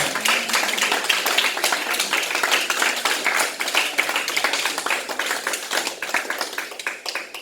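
A church congregation at a worship service claps steadily and loudly throughout, a dense continuous patter of many hands with a few voices in the mix.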